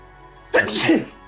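A single sharp sneeze bursts out close by, a quick intake followed by a loud burst of breath.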